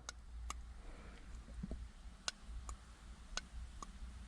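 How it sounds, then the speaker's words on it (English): An OBD2 reset button on a Dodge Nitro clicks inside a small hole, a few faint, sharp, irregular ticks over a quiet hum. "You hear that clicking?"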